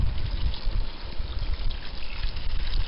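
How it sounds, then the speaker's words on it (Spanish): Water poured onto tomato and meat in a plough-disc pan, a steady close pour and trickle with bubbling liquid over low rumbling noise, with no voices. "Y le va a tirar un poco de agua"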